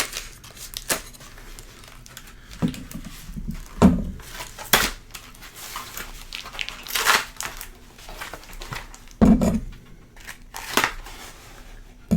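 Knife slicing open packaging, a series of sharp cuts, rips and crinkles in irregular bursts, close up with quieter rustling between them.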